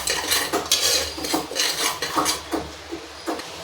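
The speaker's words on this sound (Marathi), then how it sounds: "आता ती खरपूस भाजून घ्यायची." A spoon scrapes and stirs broken-wheat lapsi roasting in ghee in a pan. Brisk, rhythmic metallic strokes repeat about twice a second, close up and clear, with no talking.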